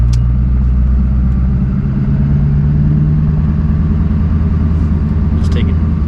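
A 1999–2007 Chevrolet Silverado pickup with a newly installed steering gearbox drives around the block, its engine a loud steady rumble close by, with a brief higher squeak near the end.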